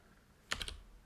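A few quick keystrokes tapped on a computer keyboard while entering a Unix terminal command, a short close burst of three or four clicks over quiet room tone.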